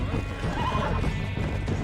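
A horse neighs and whinnies loudly in Red Dead Redemption, with hoof clip-clops and game sounds underneath and a voice talking over it.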